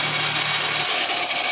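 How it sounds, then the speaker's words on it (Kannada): A Maruti Zen car engine runs at a steady idle just after starting, a close, even rumble with no talk over it. "ಗಾಡಿ ಎಲ್ಲ ಸ್ಟಾರ್ಟ್ ಆಗಿದೆ."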